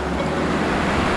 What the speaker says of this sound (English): Here's the stream running down, and there's a big drop right there